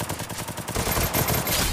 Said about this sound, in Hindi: पोपाई, पोपाई बेचारा इतने बार हेडशॉट से मर चुका है ना